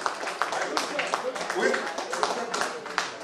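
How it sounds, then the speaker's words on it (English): Applause from an audience at an alumni general meeting and felicitation for a 1971 graduating batch, a steady dense patter of many hands clapping with a few sharper claps standing out, moderately loud and continuous throughout. "a really big round of applause for all of you"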